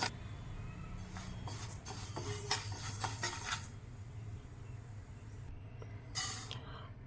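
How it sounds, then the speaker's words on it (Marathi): Urad dal is dry-roasted in a pan for a chutney powder, stirred with a soft grainy rattle that comes in bursts over a low steady hum, then goes quieter before a brief final stir. "आता आपण उडदाची पण डाळ चांगली खमंग अशी भाजून घेणार आहोत"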